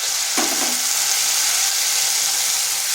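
Tomato paste sizzling in hot oil in a frying pan with ginger, a steady, loud hiss throughout, with a brief clatter of the paste dropping in early on.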